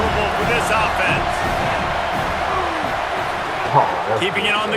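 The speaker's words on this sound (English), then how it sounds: "This crowd trying to make life miserable for this offense." Stadium crowd in a College Football video game, a continuous loud roar of fans with scattered whoops and cheers rising near the end, heard under a commentator's talk.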